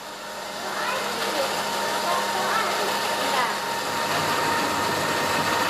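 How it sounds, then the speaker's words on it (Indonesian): A cocoa bean grinding machine turns roasted beans into chocolate paste, giving a steady, even mechanical whirring hum that runs unbroken throughout at a constant level. "Selanjutnya, biji kakao digiling menjadi pasta coklat."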